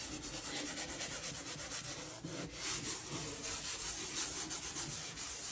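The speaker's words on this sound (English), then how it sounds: "I am taking this and rubbing it all over to take some of the finish off and to scuff it." Painted tiles are rubbed and scuffed with an abrasive to knock back the finish, giving a continuous, rough, rhythmic scratching close by, steady in loudness and without speech.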